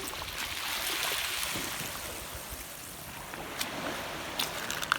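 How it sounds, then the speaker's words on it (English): Waves washing up on a sandy shell beach on Captiva Island as the tide comes in, a continuous loud rushing surge with wind noise and a few small splashes near the end. "Did I mention the tide's coming in? It's trying to wash me away."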